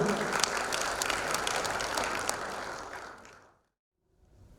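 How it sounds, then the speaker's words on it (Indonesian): Audience applause at a plumbing system product launch and networking event, dense clapping for about three seconds that fades out into near silence, then a faint return of room noise. "Boleh beri tepuk tangan untuk kita semua."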